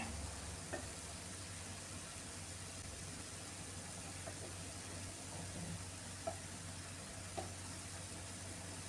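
Banana snack frying in a pan as it is crisped on both sides, a soft steady sizzle with a few faint clicks, low hum beneath, no talking.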